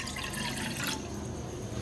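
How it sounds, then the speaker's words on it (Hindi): A cup of water is poured into a saucepan on a stove, making a faint, continuous splashing trickle that tapers off partway through. "तो उसमें मैं डाल दूँगी सबसे पहले 1 कप पानी"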